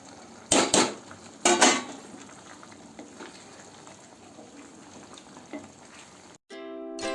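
Chuna fish fry in a pan for a fish besara curry, with a steady close sizzle, two loud bursts of spatter early on, light utensil clinks, then an abrupt cut to a different tone.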